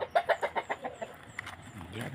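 A mother hen clucks in a short series of close, rhythmic calls that fade into quieter background noise, near a nesting spot built for her on a farm.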